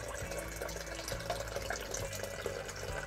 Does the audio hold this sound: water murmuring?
yes